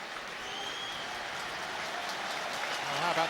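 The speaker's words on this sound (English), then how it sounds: "how about that for a round of applause in respect of Middlesbrough's efforts?" Football crowd at a Middlesbrough versus Arsenal Premier League match applauds Middlesbrough's efforts under overcast skies: a steady, distant wash of stadium clapping and crowd noise, with a commentator's voice starting near the end.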